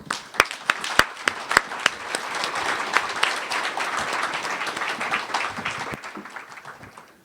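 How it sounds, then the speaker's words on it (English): Conference audience applause welcoming a keynote speaker on stage at a tech conference, opening with several sharp, close claps before swelling into steady clapping that fades out near the end. "Please welcome him with a big round of applause."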